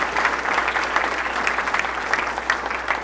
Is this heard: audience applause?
yes